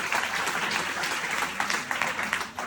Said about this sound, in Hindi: जोरदार तालियां हो जाए आपके लिए।